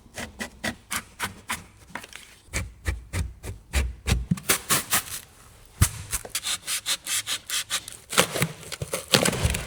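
Foam insulation being shaped by hand inside a DIY camper van, a loud, close run of rhythmic rasping strokes in quick bursts, with brief pauses between sets.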